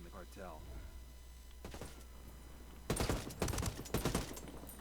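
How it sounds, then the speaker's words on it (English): R4 assault rifle gunfire in the Ghost Recon Wildlands video game, rapid bursts of shots and a fusillade crackling over a steady hum of game ambience. "the R4 does do alright with its grenade launcher"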